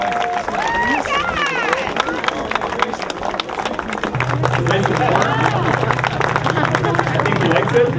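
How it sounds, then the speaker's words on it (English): A crowd at a bee beard competition applauds and cheers in a dense, continuous wash of clapping. Voices and a low steady hum run underneath. "Give a round of applause"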